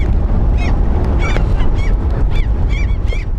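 Repeated gull cries sound over steady wind or surf noise, several short squawking calls spaced irregularly, fairly close.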